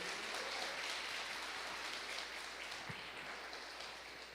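A church congregation applauds during a service, a steady and evenly spread patter of many hands clapping. The sound is soft and distant and fades slightly toward the end.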